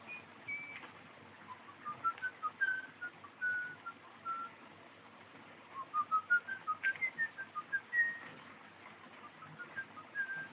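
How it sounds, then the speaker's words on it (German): A man whistles a tune in short melodic phrases, faint and somewhat distant, with a flat, old-sounding quality and no speech over it. "da pfeift doch einer"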